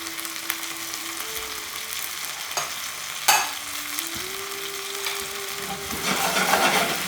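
Red chili powder, salt and cashews sauté in a pan with a steady sizzle over a low, constant stove hum. A couple of sharp clinks break in midway, and the frying swells louder toward the end.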